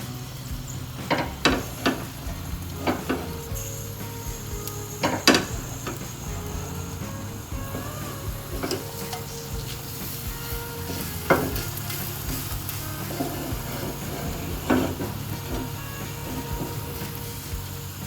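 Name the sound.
asafoetida frying in hot oil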